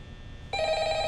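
A telephone suddenly starts ringing in the Roblox horror game Five Nights at Noob's, a bright electronic bell tone that cuts in abruptly and holds steady.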